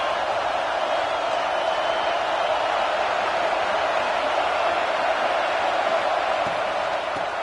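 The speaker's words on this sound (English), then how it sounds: "how nice is it to have the home crowd going absolutely bananas?" Home crowd in the college football video game College Football 26 roars loudly and steadily from start to finish, a dense, continuous wash of cheering with no clear individual voices.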